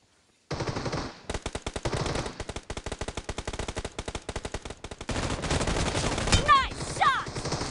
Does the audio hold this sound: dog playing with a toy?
no